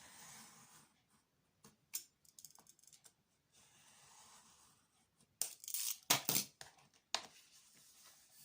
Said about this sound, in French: Donc là, si mon cutter a bien coupé, ça devrait se détacher.